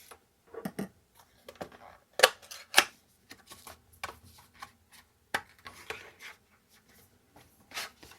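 A small package holding a mini card reader case is opened by hand, giving scattered close ticks, light taps and soft plastic rubbing and crinkling in irregular bursts with quiet gaps between them.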